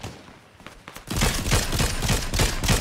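Rapid bursts of video game gunfire aimed at the player, starting after a quiet moment and continuing as dense, loud, repeated shots with a steady crackling rhythm.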